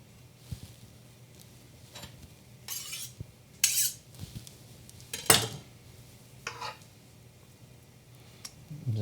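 A fork clinks and scrapes against a bowl while ravioli filling of spinach, sun-dried tomato and feta is mixed, giving scattered taps and scrapes over quiet kitchen background.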